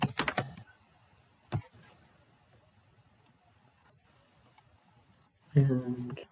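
Typing on a computer keyboard while working on homework: bursts of quick clicking keystrokes at the start and again near the end, with a single tap in between and quiet gaps, alongside a speaking voice.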